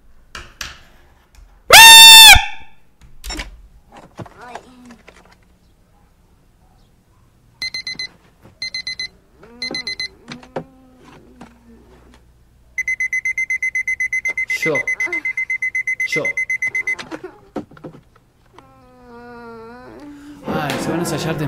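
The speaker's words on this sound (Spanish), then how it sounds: "¿Por qué tienes tantos relojes despertadores?" Several alarm clocks from an anime episode ring in loud, bursts of repeated electronic beeping and bell tones, starting and stopping in clusters, with a sharp clang near the start and a voice talking between the rings.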